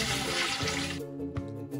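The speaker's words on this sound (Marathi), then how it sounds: "डाळ पाण्यातून 1 ते 2 वेळा धुवून घ्या" Water sloshes and pours as lentils are washed, a loud gushing wash that cuts off partway and leaves quieter trickles and swirls.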